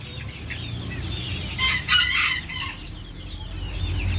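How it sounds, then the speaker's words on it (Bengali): Light Brahma chicks and chickens clucking over a low farmyard rumble on a small farm, with a brief louder burst of calls in the middle. "ছোট্ট ফার্মে লাইট ব্রাহ্মা মুরগির বাচ্চা"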